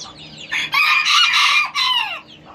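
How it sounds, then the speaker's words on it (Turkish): A small Serama rooster crows up close in a raspy, strained burst, followed by a further short crowing call and soft clucks, with quiet surroundings. "Gerçekten mükemmel bir horoz."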